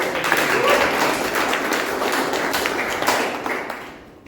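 Members at a Toastmasters club meeting clap steadily as a speaker is introduced, a moderate round of applause that holds evenly and then fades out at the end.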